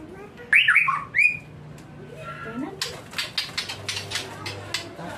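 A white-rumped shama (murai batu) at a bird market in Medan gives sharp, loud squawking calls near at hand, followed by a run of rapid clicking and tapping sounds while people talk in the background.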